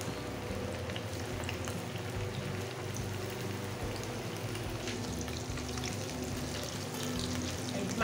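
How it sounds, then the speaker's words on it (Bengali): Pieces of snakehead fish fry in hot oil, a dense, continuous sizzle like steady rain that holds at an even level throughout. "তেলটা গরম হয়ে গেছে, এখন এক একটা করে দিয়ে দেবো। এমনিভাবে এগুলোর আগে ভেজে নেব।"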